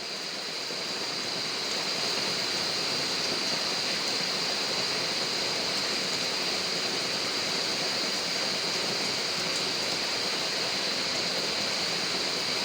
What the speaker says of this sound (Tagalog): Ayan, hmm, umuulan no. Hindi tayo makakapagtrabaho.